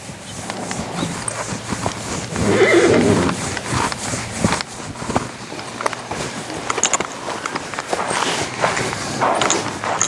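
An Arab gelding horse whinnies loudly and shifts about, hooves thudding and stepping on the ground nearby, with a strong neigh near the start and ongoing movement noise throughout.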